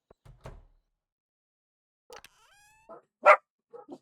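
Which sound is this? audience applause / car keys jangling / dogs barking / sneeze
dogs barking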